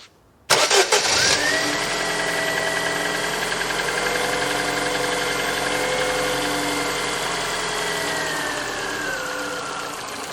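A Ford Focus MK1 engine cranks briefly, then catches and runs steadily at a loud, close idle for about ten seconds, its tone sagging slightly near the end, with the fuel pump fuse pulled to depressurise the fuel system.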